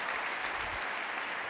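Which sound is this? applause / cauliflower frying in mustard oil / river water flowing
applause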